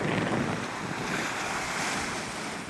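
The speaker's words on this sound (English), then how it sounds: "You can hear the waves, you can hear the wind." Ocean waves roaring during a storm on the coast of Canada, with a dense, steady wash of surf and strong wind buffeting the microphone, no voices.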